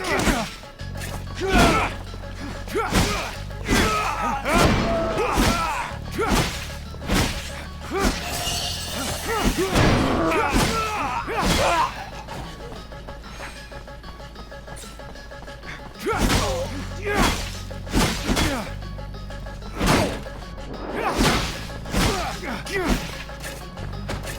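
Explosions and crashing impacts in the video game Technomancer, a string of loud booming bursts and smashing debris hits that recur through the scene, mixed with game dialogue.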